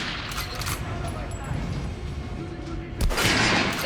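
Gunfire striking an armored enemy in the video game Metro Last Light, a burst of shots with a louder volley near the end. The shots are heavy and close, with steady game ambience beneath.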